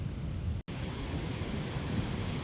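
Ocean surf breaking on the shore at St Ives on a misty morning, a loud continuous roar of waves with wind buffeting the microphone and a brief dropout, no voices.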